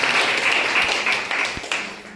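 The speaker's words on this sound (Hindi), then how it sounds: "एक और जोरदार ताली बजाए।" A church congregation at a Sunday service gives a short burst of applause, a dense patter of many hands that fades slightly over two seconds, with a few sharper individual claps standing out.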